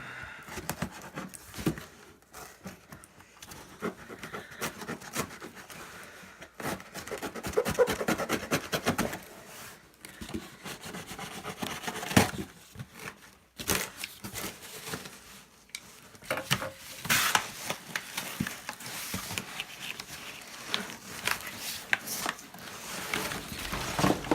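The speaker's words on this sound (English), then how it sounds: "I'm gonna just cut the box right open" A cardboard shipping box holding an anvil kit is sliced open by hand, giving irregular scratchy rasps, tearing and rubbing bursts close up for about twenty-four seconds, with no talking.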